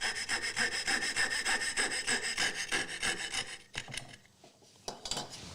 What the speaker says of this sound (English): try to use this fret saw to cut as close to that line as you can